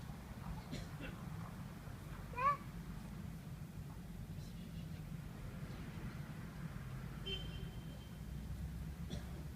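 A single short cat meow, moderately clear, over a steady low rumble of background noise; otherwise quiet apart from faint distant sounds.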